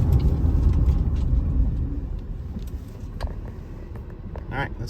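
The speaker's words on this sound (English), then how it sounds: "we're going to slam on the brakes" A motorhome fitted with Deemaxx disc brakes makes a hard stop from about 30 mph: a steady, heavy road and chassis rumble fades as it slows, with a short squeal near the end, heard from inside the cab.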